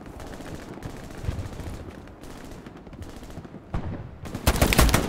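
Gunshots in a competitive tactical shooter match on a chapel map ring out as scattered cracks, building to a loud, dense volley near the end, with no talk over them.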